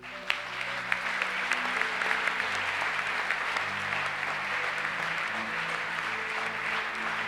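A congregation applauds steadily at a moderate distance, with a few sharper claps standing out early, over a low musical hum.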